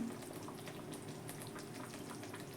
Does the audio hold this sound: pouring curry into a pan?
yes